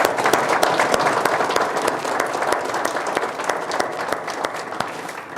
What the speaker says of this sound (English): So I'd like to have all of you receive a round of applause